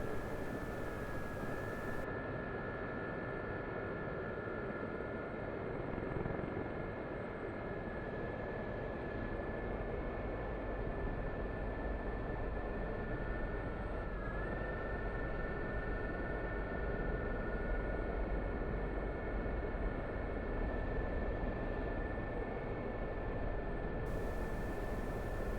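An SA342 Gazelle helicopter in the DCS flight simulator hums with a steady turbine whine and rotor wash as it descends toward a landing at a forward base, even and unbroken throughout.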